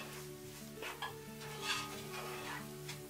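A spoon mixes a teaspoon of caster sugar into a chicken curry spiced with fennel, cinnamon and curry powder, giving steady scraping and stirring against the pot under a low, continuous cooking hum, with no talking.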